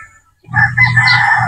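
A pure Boston Roundhead brood stag rooster lets out a single loud, close crow that starts after a brief quiet moment and holds steady to the end.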